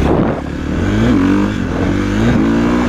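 A KTM 450 SX-F dirt bike engine revs loudly and close, the pitch rising and falling in repeated surges.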